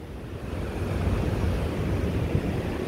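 Rough ocean surf roars steadily at the Swakopmund jetty in Namibia, a loud continuous wash of breaking waves mixed with wind noise and no voices.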